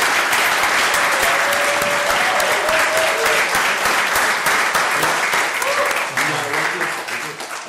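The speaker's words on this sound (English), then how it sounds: "give him a pound," Sustained audience applause at a talk, loud and dense from start to finish, tapering slightly in the last second.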